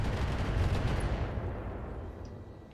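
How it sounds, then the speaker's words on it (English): Defensive turrets return fire in the mech combat game Battletech, 3025 Extended: a loud, dense rumbling barrage of overlapping blasts that gradually thins and fades toward the end. "And now the turrets return fire."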